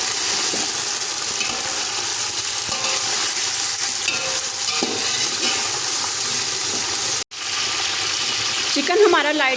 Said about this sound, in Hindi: अब मैं इसमें चिकन शामिल कर दूंगी और इसको गुलाबी होने तक भून लूँगी।